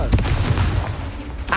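A Confringo fire spell in Hogwarts Legacy goes off in a quick, loud, close burst of booming, crackling impacts that fades after about a second, followed by another sharp hit at the end.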